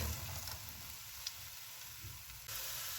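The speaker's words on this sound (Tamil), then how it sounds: "இதே மாதிரி வந்து நாங்கள் மீதி உள்ள பூந்தியை பொறிச்சு எடுத்துக்கொள்வோம்" Boondi batter drops fry in hot oil, giving a soft, steady sizzle with low rumbling bubbling underneath, fairly quiet and even throughout, with no voices.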